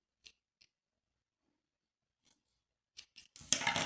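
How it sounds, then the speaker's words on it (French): Scissors snipping a short length of thread: a few faint, crisp isolated clicks separated by silence, then a louder burst of handling noise at the very end. "nous allons couper un petit morceau de longueur de fil"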